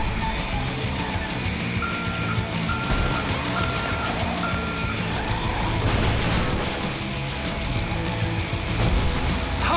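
A truck drives hard in GTA 5, its loud engine roaring continuously, with a repeating electronic beep pulsing for a few seconds and tires scraping amid the engine noise.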